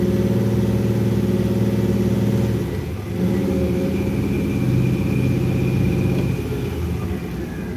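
A 1956 Bel Air's LS7 V8 revs steadily with a strong low rumble, then briefly dips as the transmission shifts before the revs build again, loud and close throughout.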